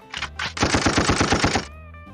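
A soundboard gunshot effect: a rapid burst of gunfire, a quick string of about a dozen loud shots in steady rhythm, ending abruptly.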